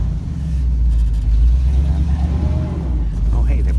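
Project car backing slowly up a slight hill off a trailer in first gear: a low, steady engine rumble close by with a gentle rise in revs, and faint squeaks near the end.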